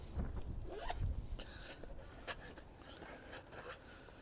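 Zipper on the carry bag of a stainless steel firebox stove pulled open in a couple of quick rasping strokes, close and fairly quiet, with small handling rustles after.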